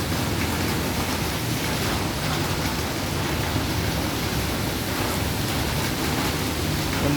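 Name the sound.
heavy rain falling on a street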